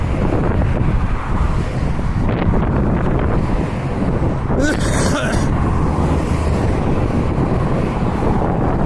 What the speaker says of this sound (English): that fucking wind's kicked up too